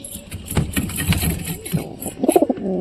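A pigeon coos beside its nest of eggs, soft repeated calls close by mixed with shuffling and light handling noise, and a brief higher call near the end.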